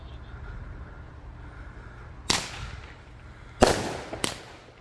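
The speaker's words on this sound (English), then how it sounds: "It's time to finally light Jaw Dropper 16 shots." A 16-shot Jaw Dropper firework cake fires outdoors: three sharp, loud launch bursts, one early and two close together later, each trailing a short crackle over faint background hum.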